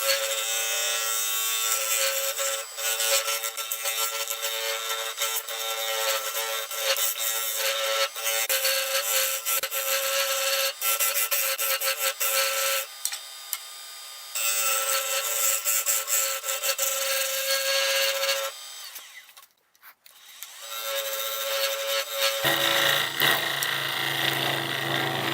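Carbide tool cutting very hard root-ball wood, a root ball with dirt in it, on a lathe: a steady, loud, continuous scraping hum with faint tonal whine that runs almost unbroken, dipping briefly near the end.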